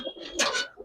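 A pair of Tota-type pigeons at a Bangladeshi pigeon seller coos close and fairly loud, in a single rounded rolling burst with a softer trailing note.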